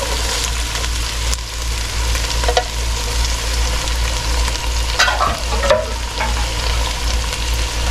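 Lima beans, corn and other vegetables sizzle and hiss in a hot pot of onions for Brunswick stew, with steady frying crackle and occasional scraping stirs close by, no talking.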